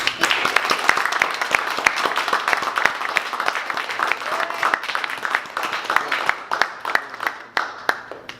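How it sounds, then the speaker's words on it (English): An audience claps steadily, dense applause that gradually thins into scattered individual claps near the end. "A round of applause for."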